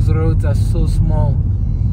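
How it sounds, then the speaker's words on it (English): A car approaches on a narrow country road in the UK, a steady loud engine rumble that fills the whole moment, with voices speaking briefly over it. "there comes a car"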